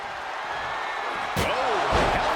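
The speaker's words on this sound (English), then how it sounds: "Solid contact with the door." A wrestler is slammed into a door: over a steady background of arena noise, a heavy thud lands partway through, followed by a second impact and a brief rise in crowd noise.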